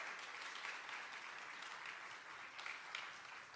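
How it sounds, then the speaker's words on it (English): Audience applause during a live televised music performance on Notre Dame Day, a fairly faint, even wash of many hands clapping with no voices over it. "Won't you keep that applause going"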